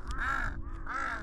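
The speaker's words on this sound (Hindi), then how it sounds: "जब यहाँ पहले एक कौवा आया था उसने देखा यहाँ पे बहुत सारा है तो उसने बाकियों को बुलाया।" Crows cawing at a forest campsite in Tosmaidan, two loud, close, harsh caws in quick succession with no talk over them.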